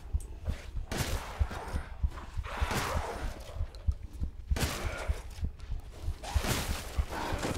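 Gunfire from weapons in the Resident Evil 8 video game, a series of loud sharp shots and bursts at an uneven pace among game sounds, with no speech.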